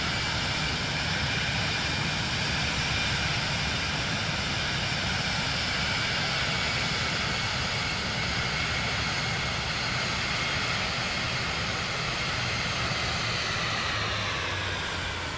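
A propeller airplane engine drones steadily while taxiing in Microsoft Flight Simulator 2024, a constant loud hum with even tone and no breaks or voices.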